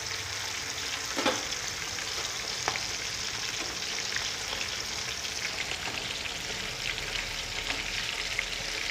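Chapli kabab patties frying in oil with a steady close sizzle and a few sharp crackles and pops, while oil is spooned over them.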